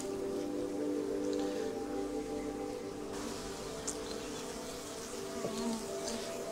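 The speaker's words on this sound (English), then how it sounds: "These bees are really gentle." Honey bees buzz continuously around an opened beehive as the comb is pulled apart during removal, a faint, busy drone of many insects.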